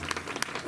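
Brief audience applause for a three-member band at a night festival eve show in Hiroshima, a short wash of clapping with a couple of sharper claps standing out.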